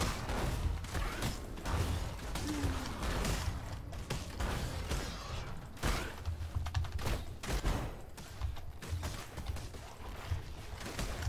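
Ice projectiles fired in the video game Path of Exile, a dense run of sharp, rapid cracks and impacts with mechanical clatter that keeps on without pause, loud and busy and with no talk over it.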